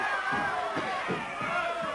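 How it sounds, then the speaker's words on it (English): A wrestling arena crowd screams and roars continuously at a live match, a dense loud wall of voices with surges of shouting throughout. "the crowd going wild here"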